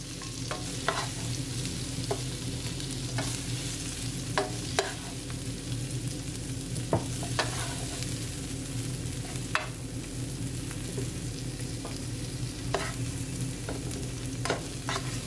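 Seafood chow mein stir-fries in a pan with a constant loud sizzle under a low steady hum, punctuated by periodic clanks and scrapes of stirring.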